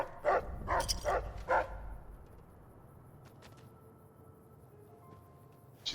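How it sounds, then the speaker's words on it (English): Dogs in the video game Fallout: New Vegas bark four times in quick succession, sharp and close, then fall quiet, leaving a faint background hum with light tones. "She's got cute little doggies."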